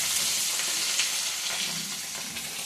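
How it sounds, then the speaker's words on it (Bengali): Small fish and jute leaves fry in oil. A steady, close sizzle and spatter fills the whole stretch and fades slightly toward the end. "ছোটো মাছ কিছুটা ভাজা হচ্ছে।"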